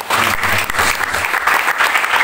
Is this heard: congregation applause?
yes